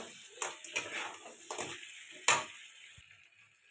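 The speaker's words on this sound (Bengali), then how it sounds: "এবার দিয়ে দেবো কাঁকড়াগুলো, দিয়ে একটু ভালো করে কষাতে থাকবো।" Crabs being stir-fried in a pan for a spicy Bengali crab curry, soft sizzling with scattered clicks and scrapes of stirring, fairly faint and close.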